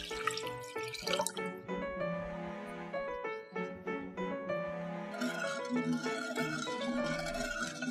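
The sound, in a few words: pouring 1.5 liters of water into a pot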